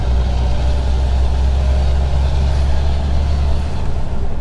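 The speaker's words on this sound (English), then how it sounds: "My truck's also regenerating as well, so it's being rather noisy" A large HGV truck engine runs loudly up close during AdBlue exhaust regeneration, a steady low rumbling drone with no break.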